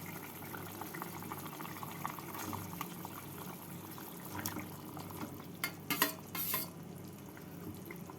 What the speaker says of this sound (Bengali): এবারে ঢাকা খুলে এর মধ্যে ভেজে রাখা মাছগুলোকে দিয়ে দেব